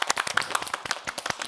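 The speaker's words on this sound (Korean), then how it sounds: "수고했다고 박수 한번 드릴게요." Six people clap together at close range, a quick, uneven burst of sharp hand claps lasting under two seconds.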